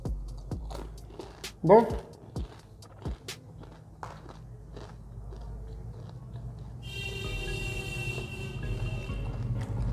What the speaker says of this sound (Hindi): थोड़ा सा ज़्यादा च्यू करना पड़ रहा है क्योंकि ये ठंडा हो गया है।